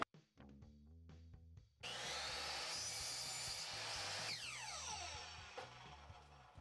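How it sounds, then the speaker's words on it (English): A 3.5 inch hole saw bores through a piece of wood, a loud continuous grinding drone after the drill spins up, close and steady, with sharp rasping bursts as the teeth bite. "a real cool tool to make a very fast round object is a hole saw"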